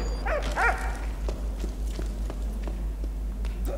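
A dog in the video game Valiant Hearts gives two quick close barks near the start, followed by soft footsteps over a low steady game hum.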